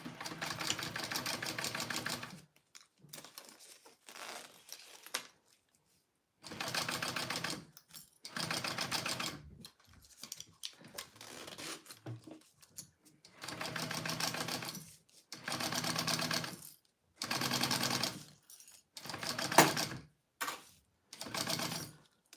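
A domestic sewing machine basts a stiff, waterproof-weight fabric in repeated bursts of rapid stitching, each a couple of seconds long, separated by short pauses, close and fairly quiet.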